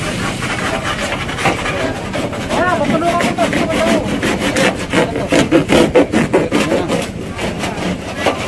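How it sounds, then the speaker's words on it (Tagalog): A saw cuts through a sidewalk cover with rough, rhythmic rasping strokes that grow louder and denser toward the end, close by, with people talking in the background. "hinihintay lang yung lagari para lagariin na lang"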